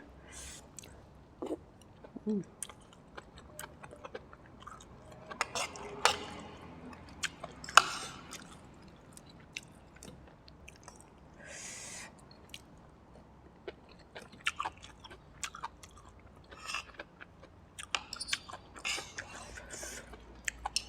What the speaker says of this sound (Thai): เห็ดอ่อนดีกรุบกรุบดี